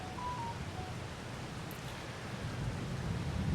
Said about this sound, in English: It's middle of April and it's raining